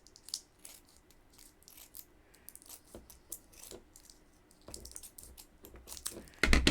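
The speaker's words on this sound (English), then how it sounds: "now we're going to open this up and we're going to cut. And I've got my small scissors for this." Small scissors snip through crochet yarn in a series of soft, irregular close-up clicks and crunches, ending in a louder rustle.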